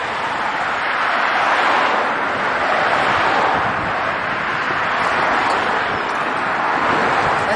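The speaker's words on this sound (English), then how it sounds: "it is very, very windy," Strong wind buffets a microphone outdoors on a street in Colchester, Essex, a loud continuous roar with surging gusts that swells and eases without pause.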